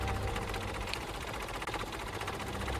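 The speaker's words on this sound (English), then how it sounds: "the engine sound gets higher pitched the faster it's moving" Tank engine in Factorio running at high speed, a fast, high-pitched whirring rattle with rapid mechanical knocking, steady and continuous throughout, no voices.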